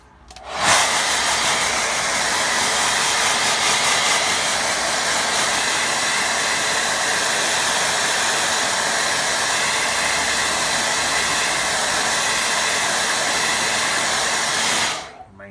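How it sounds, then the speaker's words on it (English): Hair dryer blowing on a watercolour lake painting, switched on with a click, a loud continuous whooshing rush of air held for about fourteen seconds, then cut off abruptly. "Blow dry that whole thing."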